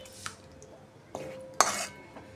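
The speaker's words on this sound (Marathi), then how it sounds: "पुन्हा एकदा थोडंसं आपण छान असं मिक्स करून घेऊया" A spoon clinks and scrapes against a pot a few times while paneer is mixed before rice is added, the metal knocks sharp and separated by quiet gaps.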